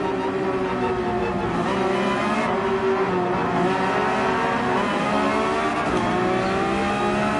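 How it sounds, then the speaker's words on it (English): Race car engine in Gran Turismo 7 screaming at high revs in first gear, a loud sustained whine with shifting harmonics and brief dips as it over-revs, heard alone without talk. "Over revved it now, first gear twice."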